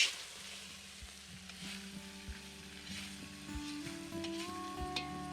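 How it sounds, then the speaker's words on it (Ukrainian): Meat fries in a cauldron (kazan) for Georgian ojakhuri, a steady close hiss of sizzling fat with a few soft periodic knocks and a faint background hum. "Так, і смажується наше м'ясо."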